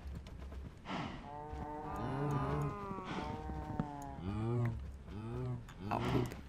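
A cow in modded Minecraft (Agrarian Skies 2 modpack) moos repeatedly, several long drawn-out lowing calls in close succession, loud and near, with people talking faintly around them.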